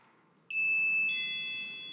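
A loud, steady high-pitched electronic alarm tone starts abruptly and holds continuously, with a faint background hum beneath it.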